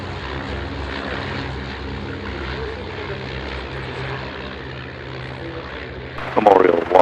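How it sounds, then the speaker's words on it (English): Several de Havilland Dragon propeller biplanes displaying at an air show, their engines droning steadily at a distance, with a louder burst of noise near the end and voices faintly audible underneath. "the Dragons are currently displaying"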